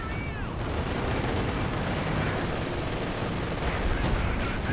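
An artillery barrage firing in a World War II strategy video game, a dense continuous rumble of overlapping distant blasts and gunfire, loud and sustained with no clear gaps.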